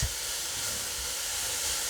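A steady, broad hiss of steam from a covered pot, constant and close, with no voices.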